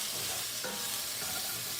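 Onions fry in ghee with a steady close sizzle, and a spoon turns them through the pan now and then.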